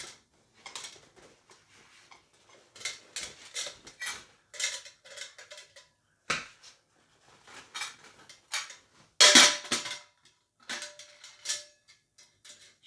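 A lightweight metal camping cook set clinks and clatters in scattered bursts, light rattles and taps of pots and lids with one sharper clang partway through.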